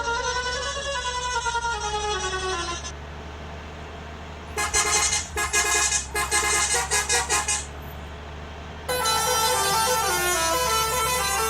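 Bus horns honk in a driving video game, with a long sustained musical horn, then a series of short rapid toots, and another long blaring horn at the end, all loud over a low engine hum.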